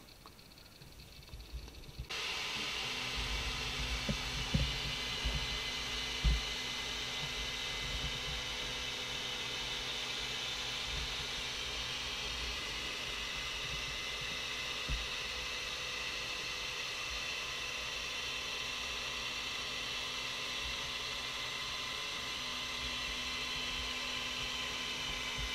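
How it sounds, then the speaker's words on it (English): Prusa Mini 3D printer running its self-test: a steady whirring motor and fan drone with a constant hum, starting abruptly and continuing for the length of the recording, with a few brief louder knocks early on. "we're just going to go to the wizard and press yes, and we will run the self-test"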